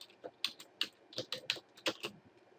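Quiet typing on a computer keyboard for AutoCAD commands, a dozen or so irregular close key clicks with brief pauses, no voices.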